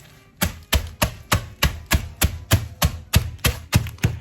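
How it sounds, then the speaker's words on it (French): Sweet biscuits being crushed for a lemon cheesecake base, by hand and then with a pestle, produce a steady run of about twelve sharp, evenly spaced crunching thuds. The sounds are close and clear, with no voices. "Et je vais écraser mes biscuits. D'abord à la main, puis en utilisant un pilon."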